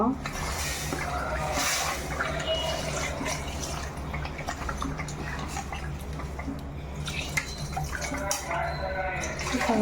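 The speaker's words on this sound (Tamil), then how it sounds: "நான் தண்ணி கொஞ்சம் ஊற்றிக்கிறேன்" Water is poured into a pan of chicken curry, giving a steady liquid splash and bubbling that runs through the whole stretch with a voice at times.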